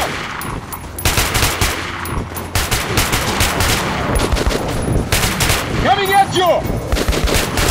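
Rapid bursts of gunfire in the shooter game Metro Last Light, loud and continuous across the clip, with a creature's screech near the end and a brief shout over the shooting.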